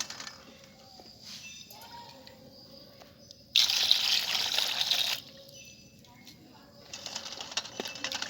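Water runs from a tap while eggs are washed, in two splashing bursts of a second or two each, with faint birdsong and quiet outdoor ambience between them.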